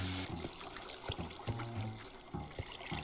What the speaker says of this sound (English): Let's go back to the waterfall.